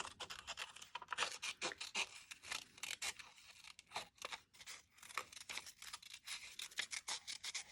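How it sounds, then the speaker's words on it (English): Scissors snip steadily around the edge of a paper collage, a quick run of close, crisp crunching cuts with brief pauses as the paper is turned. "I'll just do a loose fussy cut around it."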